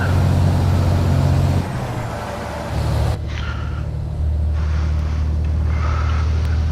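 A heavy Freightliner Classic XL truck engine in Euro Truck Simulator 2 drones loudly with a low rumble, shifting pitch as it revs, with a hiss of air partway through.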